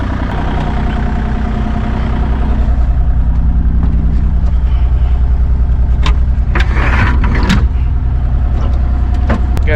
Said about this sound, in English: Just picking up this little rental mini excavator, Bobcat